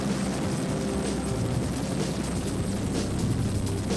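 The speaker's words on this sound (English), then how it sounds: "The EH-101 moves through the air like a hummingbird" EH-101 helicopter in flight, a loud, steady rotor drone with a dense thrumming churn that holds constant throughout, with no talk over it.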